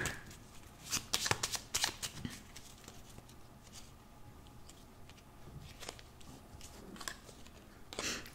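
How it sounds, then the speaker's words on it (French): Tarot cards are shuffled in quick, papery bursts of riffling and patting, loudest near the start and then in scattered shorter flurries, close by in a quiet room. "Vous savez quoi, on va retirer une autre carte."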